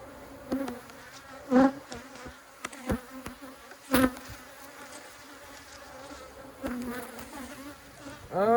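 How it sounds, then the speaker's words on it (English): Honeybees swarming around an open hive during a July colony inspection, a close, continuous buzzing drone with individual bees zipping loudly past the microphone in sharp passes. "These bees are hot."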